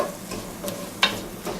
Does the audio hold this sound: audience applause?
no